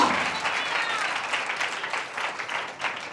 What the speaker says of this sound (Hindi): जोरदार तालियां बजाएंगे